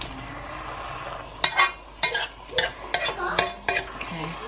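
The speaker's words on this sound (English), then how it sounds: "You give it another quick stir." Caribbean stewed beef stirred in a pot, a spoon scraping and clinking against the pot in about six quick, loud strokes close by, with no talk.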